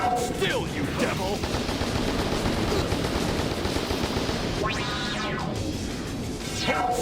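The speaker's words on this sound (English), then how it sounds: "Antimatter cannon! Fire!" In Shadow the Hedgehog, an antimatter cannon blasts away in rapid bursts amid dense, loud gunfire and crashing impacts, with sharp sweeping energy shots standing out near the end.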